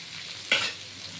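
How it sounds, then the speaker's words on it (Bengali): Pumpkin pieces frying in a pan for a Bengali chhakka, a single quick stir that brings a sharp burst of sizzle over a steady low crackle of hot oil. "এই এবার নেড়ে দিলাম। এটা বেশ করে কুমড়োর সাথে ভালো করে লাল করে ভাজা হবে।"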